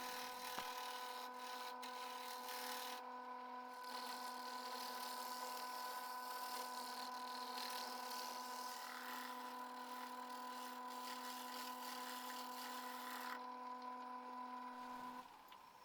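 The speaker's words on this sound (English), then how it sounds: "All this hollowing out can get a bit tedious." Wood being hollowed out on a lathe, a steady tonal hum from the spinning machine with a continuous scraping, rubbing cut running through it, fairly quiet and unbroken for the whole stretch.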